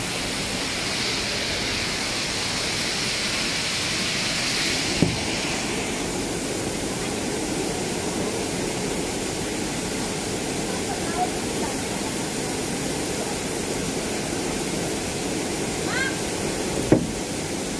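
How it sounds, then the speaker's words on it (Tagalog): A waterfall pours in a rural countryside setting, a steady broadband rushing hiss that fills the scene, with a couple of brief knocks over it. "narating na po namin ang waterfalls"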